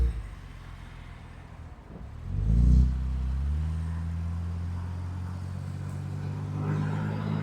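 Carburetted car engine on a test drive, heard idling steadily before a short hesitation, then a surge of low rumble as it accelerates, settling into a steady drone; no talk over it.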